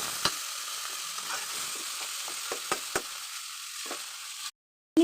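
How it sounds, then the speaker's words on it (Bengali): Green chilli, onion and whole garlic are stirred in a frying pan, giving faint soft sizzling with a few scattered spoon scrapes and knocks, ending in a short silence. "এটাকে আমি একটু 2 মিনিটের জন্য নাড়াচাড়া করে নেব।"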